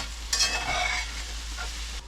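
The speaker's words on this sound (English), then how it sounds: "I take the other half and I saute it, and then I add the meat." Meat and onions sauté in a pan while cooking at a campsite, giving a steady sizzle with a few scraping stirs near the start.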